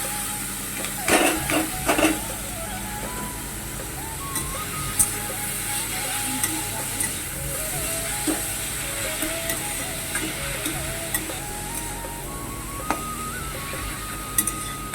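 Shredded cabbage sizzles in a pan while a utensil stirs and scrapes, giving a steady soft frying hiss broken by sharp metallic clinks and taps, with faint tonal background hum and no talk.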